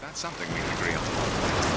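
Steady rain hisses and patters on surfaces in the video game BioShock Infinite, a dense close wash of noise that swells in after a short quieter start and holds evenly.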